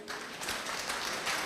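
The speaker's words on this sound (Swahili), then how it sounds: "Nipige makofi pia" A short burst of applause from the audience at a church self-help group's annual general meeting, faint and somewhat distant, lasting about a second and a half.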